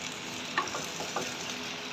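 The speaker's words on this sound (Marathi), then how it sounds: "फोडणीमध्ये बघा छान कांदा असा परतलेला आहे" Chopped onion frying and being stirred in hot tempering oil, a steady sizzle with a couple of soft scraping stirs, close and fairly quiet, with no voices.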